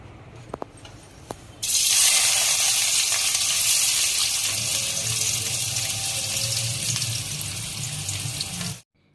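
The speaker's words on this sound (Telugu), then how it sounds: "ఉల్లిపాయలు బ్రౌన్ షేడ్ వచ్చే వరకు వేపుకోవాలి." Sliced onions hit hot oil in a pot while a fish curry is being made, starting with a few clinks and then bursting into a loud, steady hiss and sizzle that slowly eases before stopping, with no voices.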